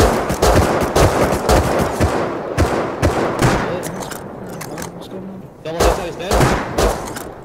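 Gunfire in a large Rust firefight: loud, rapid bursts of shots and automatic fire crack in irregular clusters, with some heavier thuds mixed in and occasional voices underneath.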